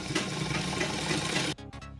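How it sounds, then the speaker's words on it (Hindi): A sewing machine runs steadily while stitching a salwar, a dense continuous whirr that stops abruptly near the end, followed by a couple of short bursts as the fabric is turned. "इसी तरह से हम एक और सिलाई लगा लेंगे।"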